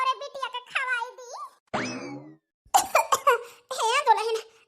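A cartoon mother-in-law, voiced in an Awadhi comedy, gives a short burst of rough coughing between stretches of exaggerated animated speech, loud and close, with cartoon vocal sounds around it.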